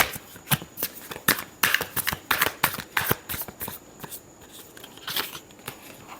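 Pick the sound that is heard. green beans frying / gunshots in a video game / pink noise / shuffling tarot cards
shuffling tarot cards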